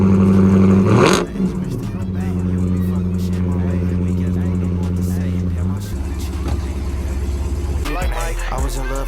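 A car engine cranks and catches with a sharp rising rev, then settles into a loud, steady idle hum that drops lower partway through, with a voice and music overlapping near the end.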